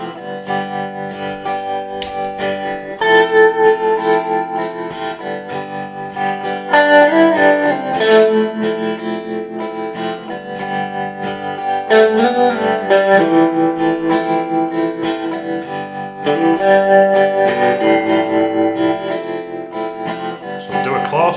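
An electric guitar plays the rhythm part of a song through a tube tremolo effect: steady, continuous strummed chords, loud and close, with no talking over them.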